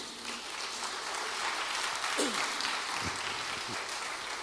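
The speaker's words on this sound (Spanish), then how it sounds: "¿Cuántos le dan un aplauso al Señor?" A church congregation applauds during a sermon, sending up a sustained wash of clapping, with a few brief vocal whoops and cheers cutting through partway.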